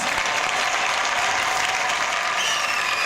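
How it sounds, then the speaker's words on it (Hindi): Enthusiastic audience applause at an Indian Independence Day event, a continuous, even roar of many hands clapping at fairly close range with no talking on top. "सुरेंद्र शर्मा जी के लिए जोरदार तालियां प्लीज"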